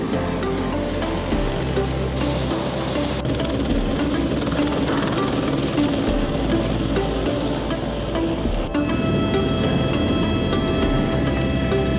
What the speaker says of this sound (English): Behind us here somewhere is a helicopter that we're going to jump on